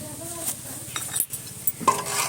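Homemade phenyl ingredients mixed with powdered camphor are stirred by hand in a container, giving quick scraping and swishing strokes with a few clinks of the spoon, close and fairly quiet.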